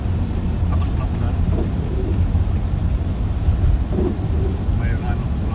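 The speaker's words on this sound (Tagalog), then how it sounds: "Patak ng ulan." Rain mixed with snow falls on the road during a drive, a steady close hiss over a low rumbling road and wind noise throughout, with possible faint voices underneath.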